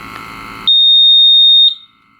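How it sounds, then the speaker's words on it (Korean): A miniRAE3000 gas detector during an alarm test emits one loud, piercing steady tone lasting about a second, then cuts off into silence. "알람을 테스트하는 버튼으로서 Y를 누르니 경고등과 함께 경고음이 울리게 됩니다"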